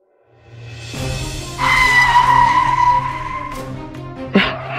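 A car skids with a long, loud tire screech in the video game Sakura School Simulator, rising over engine rumble and ending in a sharp thump.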